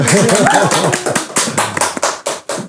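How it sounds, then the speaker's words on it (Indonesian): A voice speaks briefly, then a scattering of claps follows, uneven and fairly close, fading into sparse hand taps. "Tepuk tangan dulu dong"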